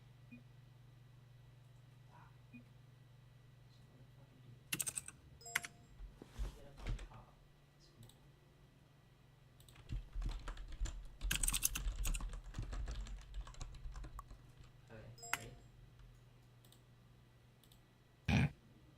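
Rapid clicking of a computer keyboard during an online game tournament, arriving in quick bursts with pauses between, fairly faint over a low steady hum, with a sharper click near the end.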